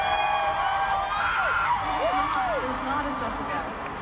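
A concert crowd cheers, with rising and falling whoops and shouts over a constant crowd roar, while a voice talks over it.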